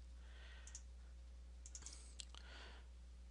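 Numbers are typed into a calculator, a few faint crisp key clicks in short clusters over steady background hum, with no speech.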